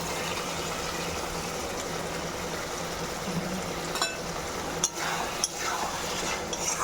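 Fish being stirred into frying vegetables in a pan over a gas flame, a steady sizzle with a few scraping clinks of the spoon against the pan.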